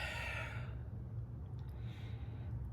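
A long, breathy exhale during a breathing exercise, close and soft, fading out after under a second into quiet.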